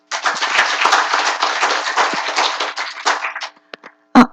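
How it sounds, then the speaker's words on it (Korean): An audience at a stroke health lecture applauds to welcome a speaker: dense, loud clapping fades out after about three and a half seconds, ending with a few isolated claps. "큰 박수로 맞이해 주십시오."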